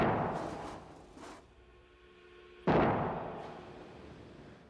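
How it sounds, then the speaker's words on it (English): A sudden loud crack like a blast at mid-clip as a Boeing 747 wing breaks in a structural test, with a long fading rumble afterward; earlier, two fainter bangs over a low steady hum. "If you take the wing of a 747, you can deflect it 29 feet at the tip before it breaks"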